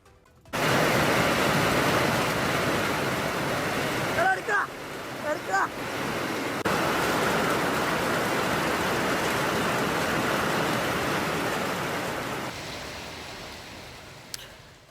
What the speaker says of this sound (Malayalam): ഇന്ന് വൈകിട്ട് മുതൽ ശക്തമായ മഴയാണ് കാസർഗോഡ് ജില്ലയിൽ ലഭിക്കുന്നത്